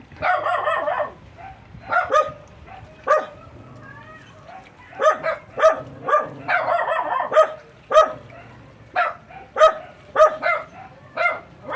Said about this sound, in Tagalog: Maingay ang aso ng aking kapatid.